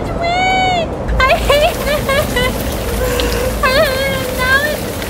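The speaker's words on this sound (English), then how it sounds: "It's raining and it's windy!" Steady rain and gusting wind fill the background while a voice talks loudly and excitedly over it almost throughout.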